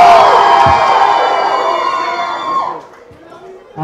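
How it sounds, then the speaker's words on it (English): Loud crowd at a film press meet for Krrish 3 in Chennai, screaming and cheering for a Bollywood star, a sustained wall of shrill voices that fades out near the end. "Loud scream for Hrithik!"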